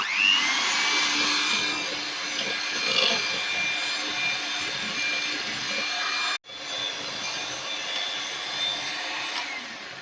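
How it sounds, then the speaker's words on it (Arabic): Electric hand mixer beating eggs and sugar for a blender Swiss roll batter, a steady loud high whirring drone that cuts out briefly and starts again, close up with no talk. "هبتدي ان انا اضربهم مع بعض في المضرب، بس هعملهم كده الاول عشان ما يطيرش هبتدي باول سرعة وبعدين اعلى بالسرعات بتاعتي"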